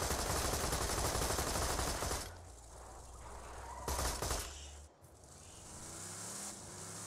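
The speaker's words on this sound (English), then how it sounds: "I'm shooting at the bombs" Dense gunfire in Borderlands 2, fired at bombs: loud rapid shots fill the opening two seconds, a second short burst follows near the four-second mark, and lower rumbling game noise carries between them.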